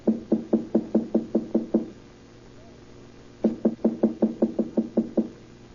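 Two bursts of firm knuckle raps on an apartment door, about nine quick even knocks each, separated by a pause of near silence, close and clear.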